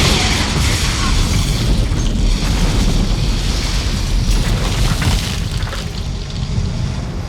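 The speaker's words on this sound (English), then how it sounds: "a pyrotechnic symphony that ends with a building explosion" A massive, rumbling full-scale building explosion from Terminator 2: Judgment Day roars steadily for several seconds, deep and loud, with a continuous wash of debris-like crackle and no speech.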